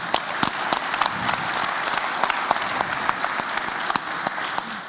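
Audience applause fills a conference hall at an opening session, steady clapping from a large crowd lasting several seconds, even and moderately loud.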